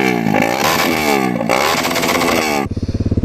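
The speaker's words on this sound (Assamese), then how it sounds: "আজি ফাৰ্ষ্ট টাইম এক্সস্ট চাউণ্ডটো খুলি পেলাই অলপমান ৰিয়েকশ্যন ল'ম মই এতিয়া মোৰ নিজৰ NS200খন চলাম" A Bajaj Pulsar NS200 motorcycle with its exhaust opened roars loudly and close by with harsh, raspy revving, then drops to a lower, throbbing idle pulse at the end.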